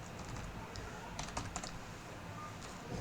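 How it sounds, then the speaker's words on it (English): Quick bursts of keystrokes on a computer keyboard as a terminal command is entered, close and light, clustered clicks with brief pauses between them. "I'm going to type here Django"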